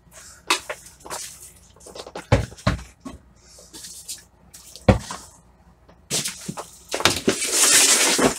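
Water splashes and drips in irregular bursts while a grow tent is cleaned with vinegar and water, ending in a steadier close rush of running water.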